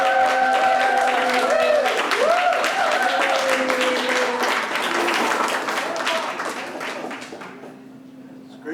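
An audience applauds warmly for author Hank Mattimore, dense clapping that gradually thins and fades, with voices and tonal sounds mixed in the crowd.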